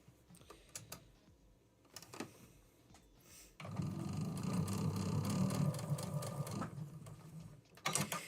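A home sewing machine runs steadily for several seconds as it resews a few stitches along middle seams, with a dense mechanical whir. Brief clicks and handling noises come before and after.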